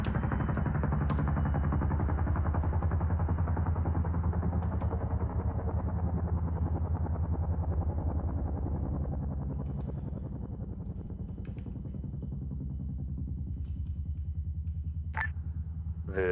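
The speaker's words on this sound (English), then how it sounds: "We have audible on some sort of rotary wing asset." A helicopter in Arma 3 drones with a steady low rotor rumble and hum throughout, slowly fading slightly, with a few faint clicks and a brief radio tone near the end.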